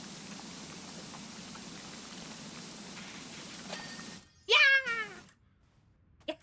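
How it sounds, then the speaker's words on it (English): In a video game, the mayor's cat gives one clear, close meow in two short bursts, heard after several seconds of quiet rain-like background hiss, with faint talk around it. "It's the cat."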